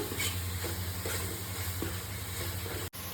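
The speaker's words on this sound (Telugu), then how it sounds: "తగినంత పసుపు అన్నీ వేసుకొని మంచిగా ఫ్రై చేసుకోవాలి" Masala seasoned with turmeric and coriander powder fries in a pan with a steady close sizzle, broken by soft scraping stirs, with no talking.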